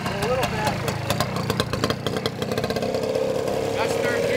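A 1975 Suzuki RL250 trials motorcycle runs in third gear, its engine putting out a steady, close mechanical drone with rapid rhythmic pulses and slight shifts in pitch, a voice briefly talking over it.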